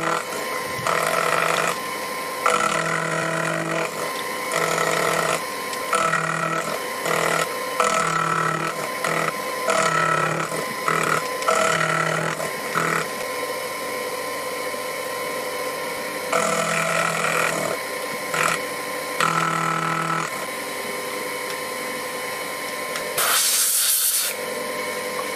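A Proxxon PD 250 e lathe cuts a groove in a die with an end mill, its steady motor whine broken by repeated hissing, chattering cutting passes, then a short sharp burst near the end.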